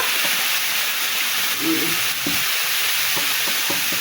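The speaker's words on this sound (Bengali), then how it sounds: "কাঁঠালটা দিয়ে এখন একটু নাড়াচাড়া করে লবণ হলুদ দিয়ে দেবো" Jackfruit and shrimp cooking in a pan, with a steady close hiss of frying and intermittent scraping stirs of a utensil through the pieces, without any talking.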